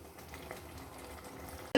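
Boiled chickpeas, dal, potato and greens cook in a pan over a high flame, giving a soft, steady bubbling sizzle that ends with a sudden louder clatter.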